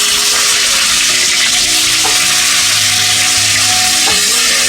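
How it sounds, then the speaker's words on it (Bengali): Chopped onions fry in hot oil with cumin for a Bengali katla fish curry, giving a loud, steady hiss and crackle with occasional stirring scrapes and no talk. "পেঁয়াজগুলোকে হালকা ভাজা করে নেব,"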